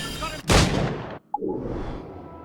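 A mortar shell bursts in the game Assassin's Creed Rogue: one loud, close explosion with a long rumbling tail, a brief pop, then a lower, fading roar. No talk.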